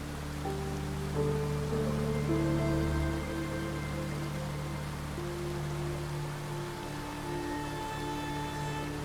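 Steady, dense rain pours down, a constant wash of noise with a faint low hum beneath, no voices.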